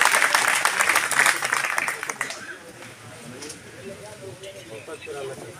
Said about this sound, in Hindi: आज ये पार्टी में शामिल हो रहे हैं, जोरदार ताली बजा के स्वागत करिए।